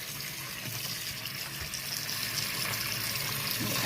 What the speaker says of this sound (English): I've got the sink filling with some hot water, just one enough to cover the screen.